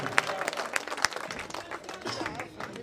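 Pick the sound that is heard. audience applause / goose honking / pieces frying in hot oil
audience applause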